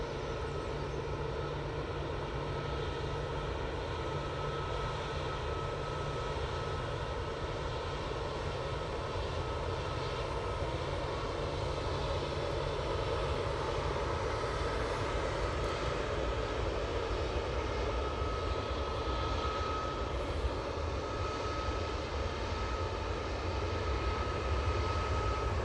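An easyJet Airbus A321ceo with its jet engines at Manchester Airport, a constant low droning engine rumble with a faint whine, steady and fairly distant throughout with no talk.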